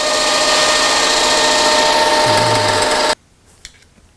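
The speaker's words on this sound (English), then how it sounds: "we're going to drill through" A power drill runs loud and steady for about three seconds, then stops abruptly, leaving near silence with a faint click.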